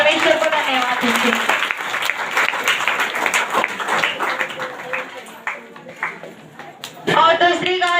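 A church congregation applauds loudly, claps thickening into sustained applause that tapers off and then swells again briefly, with voices mixed in.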